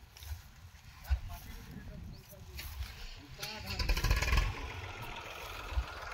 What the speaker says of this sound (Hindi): ट्रैक्टर भी चालू है